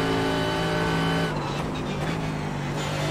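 Mercedes GT3 race car in iRacing at Barber Motorsports Park, loud high engine drone that drops abruptly as the car brakes hard, followed by lower revs and faint tire scrubbing on downshifts.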